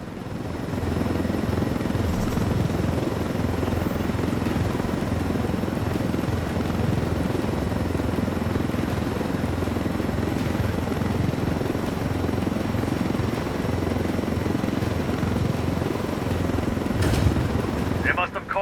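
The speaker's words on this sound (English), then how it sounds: "This helicopter is proof of what the Russians are up to." A military helicopter from Ghost Recon Wildlands flies overhead with a loud, continuous rotor drone throughout, steady and close, while voices talk over it.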